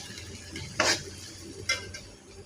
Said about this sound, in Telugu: ఆయిల్ కాగాక ఉల్లిపాయ వేసుకోవాలి.